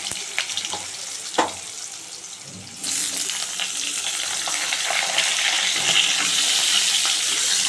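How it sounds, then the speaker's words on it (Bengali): Potatoes frying in hot oil in a wok, loud continuous hiss and crackle that jumps up partway through and then holds steady, with a few brief clinks and knocks early on and no talking. "আগে ভেজে নেবো আলুগুলো।"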